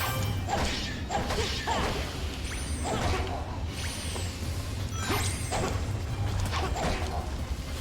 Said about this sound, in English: Windows exploding on cue, we love it.